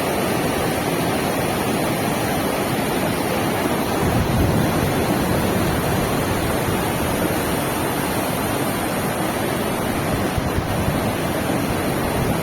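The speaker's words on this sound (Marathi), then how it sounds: "हा आवाज आपल्या कानात घुमतो आणि हीच ती स्वच्छ शौक नदी" The Shyok river rushes past Turtuk village in Ladakh, a dense, steady roar of flowing water with no voices, loud and unbroken throughout.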